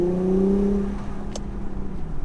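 An Infiniti Q50S with the 350Z-derived V6, 364 hp, in sport mode gives a deep engine drone that rises in pitch and then settles into a steadier hum, heard from inside the car.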